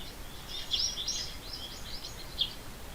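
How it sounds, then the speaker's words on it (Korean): Birdsong from an mp4 audio file played back in DaVinci Resolve: a series of high, quick chirps and trills over a steady low hiss, fairly faint, with no talking. "그러면 새소리가 들리는 것을 확인할 수 있습니다."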